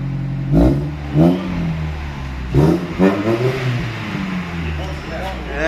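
A car engine revs hard through an Akrapovic-style aftermarket muffler with its valve open, giving several loud throttle blips with rising and falling tone over a steady idle, close by in a garage setting.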